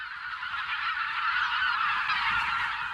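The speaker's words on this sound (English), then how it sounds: "In late March, the skies suddenly get noisy. The wild geese are back." A flock of wild geese honks continuously while flying overhead, a dense chorus of many overlapping calls at steady strength, with no voices.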